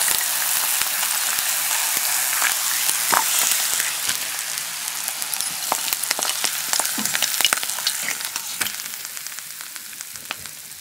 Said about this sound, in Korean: 좀 전에 계란 후라이 소리 들어나요?